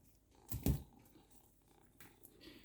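A British Shorthair cat purring close by, with a brief louder burst of rustling or movement early on and a soft, low, steady rumble continuing faintly afterward.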